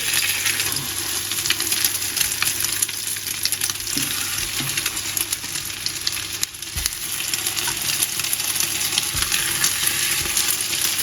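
French toast slices of cinnamon-sugar-soaked bread cooking in butter in a hot pan, with a loud continuous sizzle and occasional small clinks and taps of a utensil.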